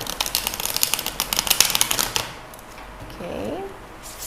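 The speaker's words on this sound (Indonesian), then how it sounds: "sambil saya shuffle kartunya ya" Tarot cards are shuffled in a quick burst of rapid riffling clicks and flutters lasting about two seconds, followed by a brief vocal sound.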